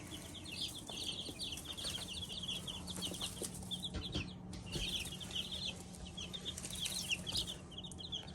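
Barnyard-mix olive egger chickens in the Ozark Mountains clucking and chirping steadily, many overlapping small calls at moderate distance over a constant background hum, with occasional rustles and no voices.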